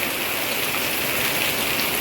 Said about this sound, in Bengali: নিঝুম বৃষ্টি হচ্ছে অনেক বৃষ্টি হচ্ছে